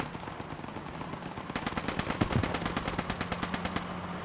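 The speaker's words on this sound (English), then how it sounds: "MP40 in hand. Sprays the corner." A German MP40 submachine gun in Post Scriptum fires a long, rapid burst of evenly spaced shots lasting over two seconds, moderately loud amid background battlefield ambience, with no talk.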